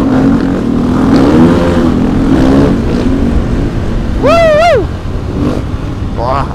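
A loud motorcycle engine drones and then revs sharply up and down in a quick rising whine during a wheelie, with people talking over the steady motor noise.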